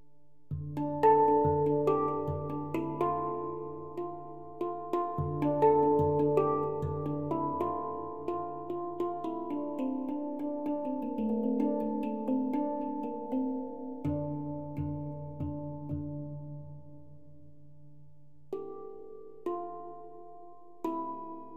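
Steel handpan, comparing stainless and nitrided steel, played as a slow sequence of struck notes that ring with long sustain, fairly soft and close, with a low drone note recurring beneath melodic tones and a pause before a few final strikes.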